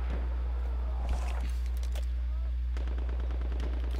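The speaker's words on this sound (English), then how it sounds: "I saw some gunshots over there." Battlefield 1 battlefield gunfire: several loud sharp shots and bursts over a constant low hum, with a heavier report near the start and a rapid string of shots toward the end.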